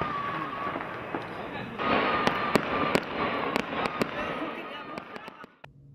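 Fireworks and firecrackers bursting during Chinese New Year celebrations in China, a dense crackle with repeated sharp bangs at irregular intervals over a constant roar of the crowd and voices.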